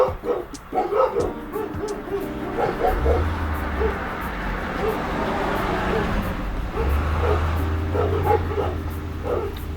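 Dogs bark and yip at moderate distance with some whimpering, over a noisy outdoor background with a low engine rumble and faint voices.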